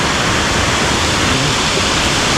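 Kaasipatnam waterfall near the Araku Ghat road in heavy rain, a dense, loud, continuous rush of falling water heard up close, with no other sounds breaking through.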